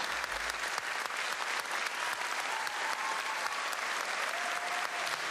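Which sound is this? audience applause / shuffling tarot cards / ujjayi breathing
audience applause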